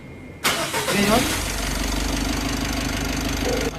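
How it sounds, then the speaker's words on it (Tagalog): A Mitsubishi L300 Euro4 van engine cranks and catches abruptly, then settles into a loud, steady idle with a low rumble that continues to the end. "pa-start ko na itong makina"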